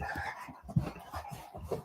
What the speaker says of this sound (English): Sorry if you hear Henry still growling and snarling over here.